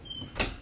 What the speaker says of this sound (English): Guess what I can do? I close the door.